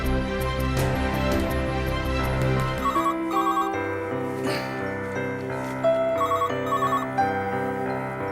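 A telephone rings in a home with a repeated electronic ringtone, running under a bed of dramatic background music with no talk heard.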